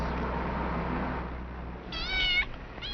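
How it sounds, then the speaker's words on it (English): A cat meows outside a door in a 1951 film scene, a short, clear meow rising over quiet room tone near the end. "Your cat seems to have gotten itself locked out."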